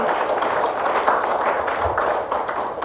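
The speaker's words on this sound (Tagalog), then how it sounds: "Isa nga po muling malakas na palakpak sa ating Panginoon." Church congregation applauding during a Sunday worship service, a dense steady roll of many hands clapping close and fairly loud for the whole stretch, with faint voices mixed in.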